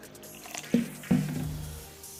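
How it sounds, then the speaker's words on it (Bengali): Gobindobhog rice is swished and squished in a bowl of water, with two distinct wet sloshes followed by soft dripping and trickling, fairly quiet and close, with no talk. "এবার একটা বাটিতেই চালটা ঢেলে দেবো এবার চালটাকে ধুয়ে নেব"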